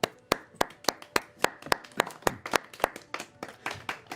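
Hand clapping greets a performer's bow in a carnival tent: close, evenly spaced claps in a steady rhythm that sound like only a few pairs of hands, with no talking.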